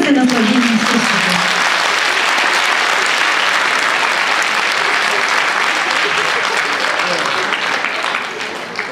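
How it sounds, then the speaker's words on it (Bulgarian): A concert audience applauds to welcome a folk song and dance ensemble, loud dense clapping filling the hall without pause, with a brief voice at the very start. "Нека ги посрещнем с аплодисменти"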